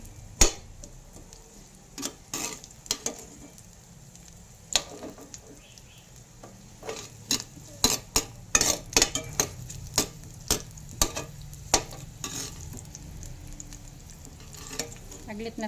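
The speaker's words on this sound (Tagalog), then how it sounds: "Prito lang natin saglit." Oil sizzles steadily in a pan while onion rings fry, with scattered sharp clicks and taps of a utensil against the cookware.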